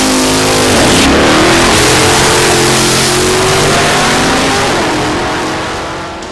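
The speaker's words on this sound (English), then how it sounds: "drag racing" A drag racing car engine roars loud and close as it accelerates hard, its pitch climbing steadily through a sustained run before easing slightly at the end.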